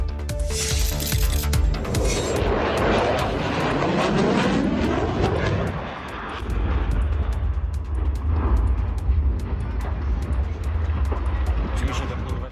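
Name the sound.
F-16 fighter jet flying during air show rehearsal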